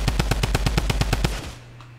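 Rapid automatic gunfire in Fortnite Battle Royale, a fast burst of about a dozen evenly spaced loud shots that stops abruptly, followed by a low lingering hum.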